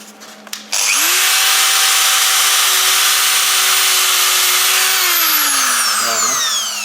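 Power grinder biting into cast iron in a workshop, a loud sustained high-pitched whine that spins up, holds steady for several seconds, then winds down.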